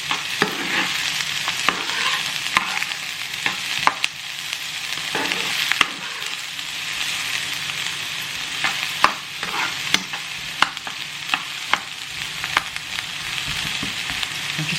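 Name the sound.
jackfruit and pepper frying in a pan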